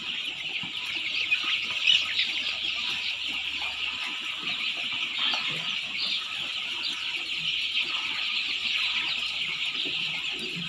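Eighteen-day-old three-breed crossbred chicks peep and cluck continuously in a busy, close chorus, with one louder squeal early on.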